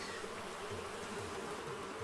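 Bees from the Animal Crossing video game buzz in a steady, dense drone, sustained and fairly quiet throughout.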